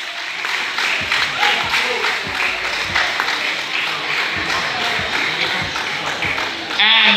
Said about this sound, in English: Let's give a round of applause to our Brazilian Jiu-Jitsu competitors